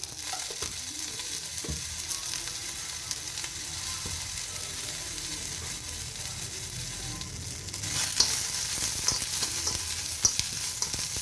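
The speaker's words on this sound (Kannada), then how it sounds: "ಸ್ವಲ್ಪ ಎಣ್ಣೆ ಹಾಕಿ ನಾನು ಇದನ್ನು ಫ್ರೈ ಮಾಡ್ಕೊತೀನಿ. ಹಸಿಮೆಣಸಿನ್ಕಾಯಿನ ನೀಟಾಗಿ ಹುರ್ಕೋತೀನಿ." Green chilies fry in oil in a pan with a steady, close sizzling hiss that grows noticeably louder and brighter in the final few seconds, with a few light clicks and no voices.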